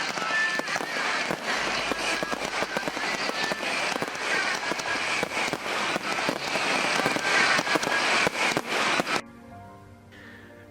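Fireworks burst through a village festival night with a summer ball, a dense, loud run of popping and crackling that continues for about nine seconds and then stops abruptly, leaving quiet.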